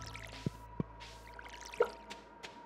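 A watering can soaks crops in the farming game Stardew Valley, heard as a few sparse, soft drips and splashes over quiet game ambience.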